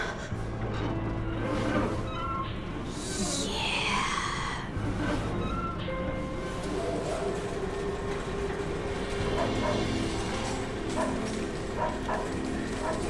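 A dog barks and whimpers in the video game Deadly Premonition. Short yelps rise over a steady, rumbling, train-like background that continues throughout.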